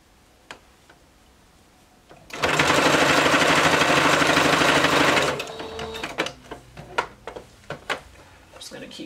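A sewing machine runs steadily for about three seconds as it stitches a stretched neckband onto bodysuit fabric at a half-inch seam, then stops, followed by quieter handling noises and light talk.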